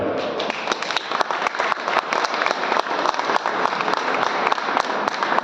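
An audience at a live stand-up comedy show claps together in a dense, sustained round of applause, loud and continuous from start to finish.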